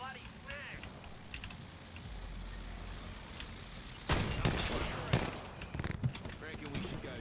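Gunfire in a video game played on a PC, bursts of sharp cracks in the second half over a steady background hum, mixed with keyboard clicking and occasional voices.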